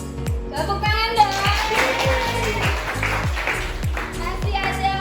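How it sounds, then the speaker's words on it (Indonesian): Children clap together in a classroom in a steady rhythmic beat, the claps close and even, with young voices and chatter going on underneath. "Tepuk tangan dong."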